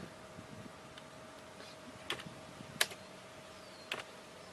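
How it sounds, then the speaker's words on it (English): Soft, quiet keypresses on a computer keyboard as gain values are typed into magnetometer data-collection software, a few scattered clicks over a steady low hum with a couple of sharper taps. "So we type in values for the gain"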